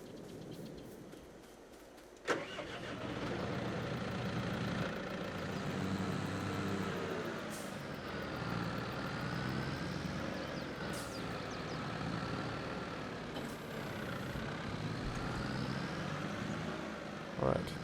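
A John Deere tractor engine in Farming Simulator 22 sets up a steady droning hum after a sharp knock, holding at a constant level with slight pitch shifts while someone talks over it.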